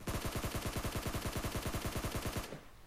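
Rapid automatic gunfire from a player shooting prone in PUBG Mobile, a tight, evenly spaced stream of loud shots lasting a couple of seconds before it cuts off abruptly.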